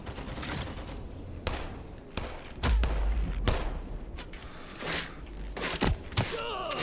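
Rapid pistol gunfire in the video game Histera, a string of sharp, loud shots in uneven bursts with brief gaps, up close over a busy game background.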